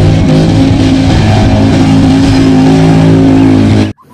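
A toy jeep car gives a loud, continuous buzzing motor whine with a steady hum, then cuts off abruptly near the end; no talking.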